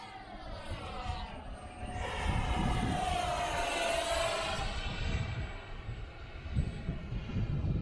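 Two F-15 fighter jets fly in strong wind, a loud, sustained jet roar with a rising and falling whine as they pass, carried over gusty low rumble.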